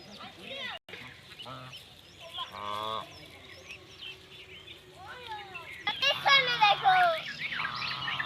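Several honking calls from domestic geese by a riverbank come in bursts, louder toward the end, with children's voices chattering in between.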